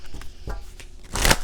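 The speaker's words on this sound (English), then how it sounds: "Let's pull some cards from the dark" Tarot cards are pulled from a deck in a brief sequence of soft rustles and slides, ending in a louder, sharper card shuffle or snap, close by with no talk.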